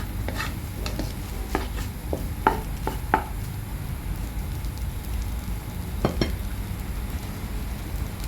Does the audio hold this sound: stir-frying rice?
yes